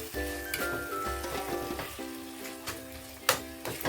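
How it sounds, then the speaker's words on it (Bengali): Chicken pieces frying in masala for chicken ghugni sizzle steadily in a pan, a close, continuous crackle with occasional sharp clinks of a spoon against the metal. "দিয়ে চিকেনটা মশলার সঙ্গে ভালোভাবে কষিয়ে নেব।"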